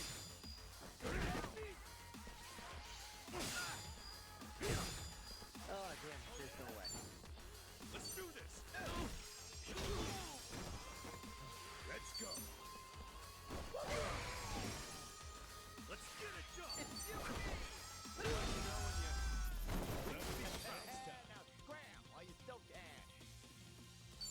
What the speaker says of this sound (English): Good thing these guys are all weak to being smashed with bar chairs.